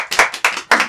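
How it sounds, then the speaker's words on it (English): Students clapping in a classroom, three quick bursts of close, loud hand claps in rapid succession, no voices. "clap for him"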